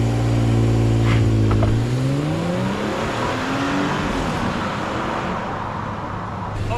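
A boosted car with under 300 horsepower launches hard under launch control, its engine note climbing through revs and a gear change before fading as it pulls away, loud at first and then more distant.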